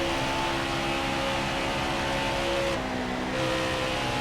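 A NASCAR Cup Series race car runs a lap in NASCAR Heat 5, its engine a steady, loud, humming drone that shifts pitch briefly partway through.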